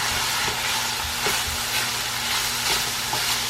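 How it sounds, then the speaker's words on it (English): A spoon scrapes and stirs cumin through hot oil in a frying pan, with a steady sizzle and soft repeated scraping strokes up close, and no voices. "And then I'm going to put in 1 teaspoon of cumin. Okay, and kind of stir that in a little bit."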